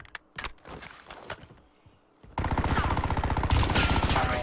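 Gunfire in a battle royale video game: scattered single shots at first, then a loud sustained burst of rapid automatic fire that keeps rattling to the end.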